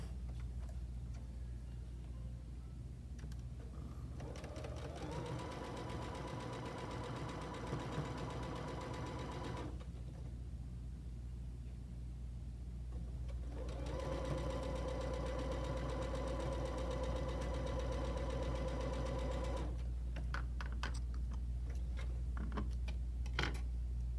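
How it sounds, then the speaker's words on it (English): Sewing machine stitching a quilt block seam, a steady mechanical hum with fast ticking that runs in two long stretches separated by a brief stop, fairly quiet with no talking. "So now I'm going to sew that together."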